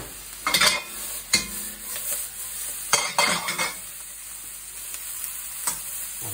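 Scallops, shrimp and bean sprouts are stir-fried in a wok with honey and ginger, a moderate sizzle broken by several bursts of tossing and scraping against the metal, close and without voices.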